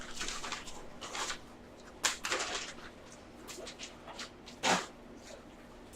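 Pet dog Daisy, a small pup, makes short snorts, sniffs and sneeze-like huffs at an irregular pace, close by over a steady low hum.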